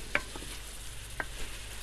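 Chicken karahi with coriander powder, black pepper and green cardamom stirred in a pan: a steady sizzle of frying under a couple of brief scraping clinks of the spoon, close and moderately loud.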